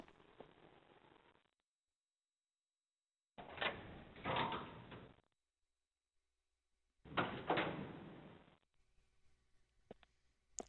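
A door opening in the Resident Evil 0 video game: two long scraping, grinding bursts separated by silence, loud and close, followed by a faint rumbling tail.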